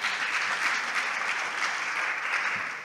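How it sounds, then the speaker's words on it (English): A church congregation claps together during a sermon, a dense, steady burst of applause lasting about three seconds before tapering off. "Give another clap."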